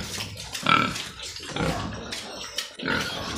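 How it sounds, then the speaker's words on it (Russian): Eight large pigs grunting in a pen, close and loud, with repeated irregular snorts and oinks of varying length. "Вот эти вот свиньи от мамаши, от Бухенвальда, которую высосали всю."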